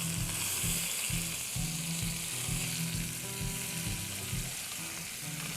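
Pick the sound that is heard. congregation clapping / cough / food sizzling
food sizzling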